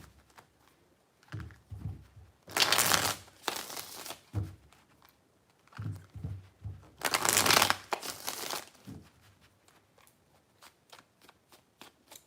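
Tarot cards being shuffled by hand in three bursts, two long loud riffling runs with softer handling and taps between, close and alone with no talk.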